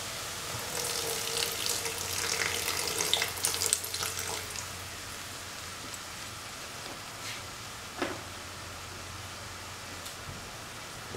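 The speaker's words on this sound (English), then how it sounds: "Pour in around 75 ml of water." Water poured into a cooking pot while making an ash gourd and black-eyed bean coconut stew, a bright splashing pour for about four seconds that then fades to a quieter trickle and faint kitchen clatter.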